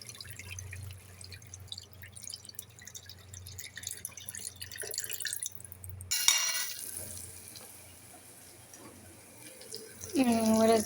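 Warm water runs from a tap over lentils being rinsed in a kitchen, a steady splashing stream with dripping, loudest in the second half and close to the microphone.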